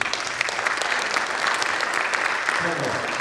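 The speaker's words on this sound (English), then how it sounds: "Can we give her a round of applause?" A crowd applauds steadily and loudly for a teammate at an athletic signing day event, dense clapping throughout, with a voice briefly heard toward the end.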